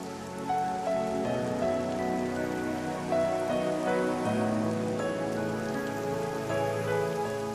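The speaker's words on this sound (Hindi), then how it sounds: "इस बारिश में तुम्हारे साथ भीगकर मुझे बेहद मजा आ रहा है" Heavy rain falling, a steady loud hiss of drops under a musical film soundtrack with sustained tones, no speech.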